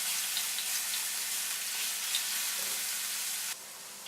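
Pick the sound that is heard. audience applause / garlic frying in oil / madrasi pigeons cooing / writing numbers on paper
garlic frying in oil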